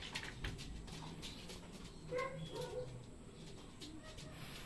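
Soft racing pigeon cooing in short low bursts, moderately distant, over steady outdoor background noise at a pigeon training release.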